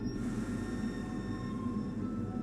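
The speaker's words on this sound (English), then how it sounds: "There's a train passing now, so you hear this sort of like a little monster somewhere far away." A low, steady rumble of a distant train passing through a tunnel, muffled and continuous, with a faint high whine running through it.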